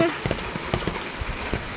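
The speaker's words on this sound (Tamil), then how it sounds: "சரி மழைங்க." Rain falls during a walk outdoors under an umbrella, giving a soft background hiss with uneven close patters and drips.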